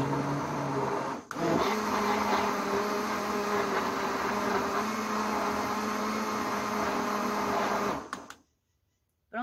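Kitchen blender whirring through a natural orchid insecticide mixture, a loud continuous motor roar with a brief dip near the start, cutting off abruptly into near silence at the end.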